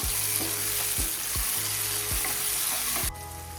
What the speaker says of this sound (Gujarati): ક્રશ કરેલું ટામેટું એડ કરીશું। સારી રીતે મિક્સ કરી લેશું.